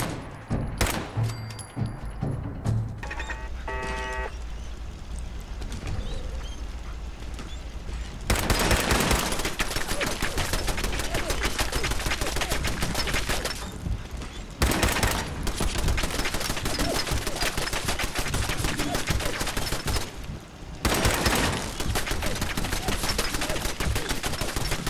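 Gunfire from a gun in the game Fallout 4, dense rapid bursts of automatic shots with brief pauses between them, loud and continuous over a game soundscape, with no talking.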